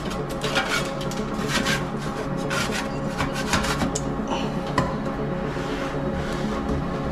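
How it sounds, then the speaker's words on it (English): A scraper rasps loose bits of dried plaster mud off the edges of a lath-and-plaster ceiling, a continuous close, gritty scraping with short strokes and no voices. "And what I'm scraping are loose bits at the edges."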